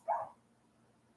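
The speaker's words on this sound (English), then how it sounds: "Oh, that's my dog." A single short dog bark sounds faintly at a distance, followed by quiet room noise.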